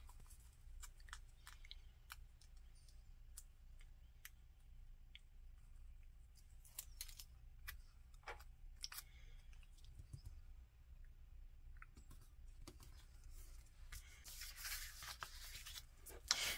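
Scissors snip through paper to trim a sidebar for a social media planner spread: scattered short, crisp cuts and rustles up close, quiet overall, with a denser burst of cutting and paper handling near the end.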